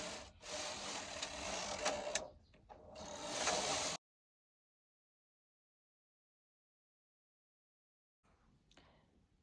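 A knitting machine carriage sweeps across rows of knitting, giving a close, loud mechanical whirring and clattering in two or three passes, followed by a long silence and then a faint rattle.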